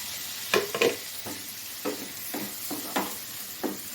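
Onions sautéing in a pan for a tomato gravy side dish, quiet background sizzle broken by repeated scraping stirs of a spatula, roughly one every half second.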